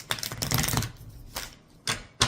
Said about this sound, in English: I'm shuffling these cards